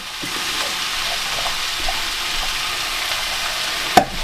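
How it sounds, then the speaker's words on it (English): Lentils and stock are stirred through a beef, mushroom and leek pie filling in a pan, with a soft steady sizzle and bubbling throughout and a single sharp utensil clink near the end. "stir those through."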